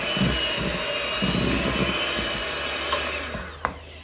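An electric mixer whipping colour into cupcake icing, a loud, steady whining motor hum with slight surges, ending in a small clatter, with no voices.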